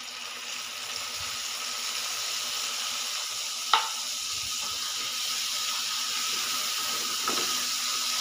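Corned beef sautés in a pan with a soft, even sizzle throughout. A single sharp utensil clink cuts through near the middle, and there is no speech.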